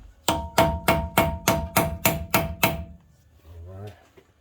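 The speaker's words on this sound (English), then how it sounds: "you're definitely going to need a hammer to do the job anyway. So let's tap on it," A hammer taps nine times in a steady rhythm on a rusty front lower ball joint of a GMC Sierra 1500 5.3L truck, sharp metallic close strikes with a ringing tone, followed by a brief softer rattle.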